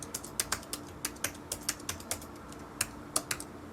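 Computer keyboard keys clicking as a password is typed, a quick irregular run of light taps with a brief pause before a few more, close and alone against faint room hiss.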